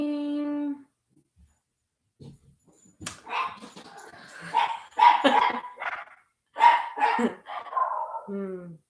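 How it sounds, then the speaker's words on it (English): Several dogs barking and yelping in short irregular bursts over about six seconds, fairly close and loud, with a brief whine at the start and end. "My dogs lately have been making a lot of noise during our meditations."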